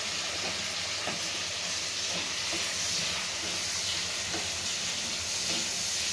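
Drumstick (moringa) pieces frying in a pan for a tomato curry give a steady, close sizzle and hiss throughout, with a few faint stirring clinks and no talking.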